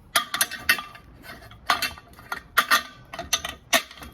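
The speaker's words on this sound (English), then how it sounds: "Let's put a bolt in." Metal clinks and taps of a bolt being fitted into a Tiger Brand adjustable jack support post, a series of sharp, uneven chinks and rattles close by, with quiet gaps between bursts.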